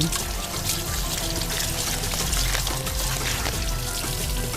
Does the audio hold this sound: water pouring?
yes